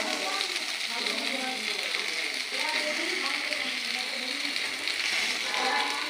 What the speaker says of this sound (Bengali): খুব সুন্দরভাবে কুমড়ো ভাজাটা হয়ে গেছে